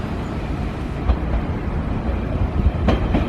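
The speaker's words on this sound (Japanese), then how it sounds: "2番線から電車が発車します。ご注意ください。" A Hanshin 5000 series Jet Car local train pulls out from platform 2 of a station, a steady close rumble of wheels and motors with a few clanks and rail clicks, with no talk.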